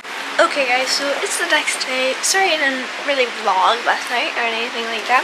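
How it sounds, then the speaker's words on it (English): An electric fan runs steadily in a room during a sleepover, its broad airy whoosh continuous beneath someone talking close up. "sorry for the fan"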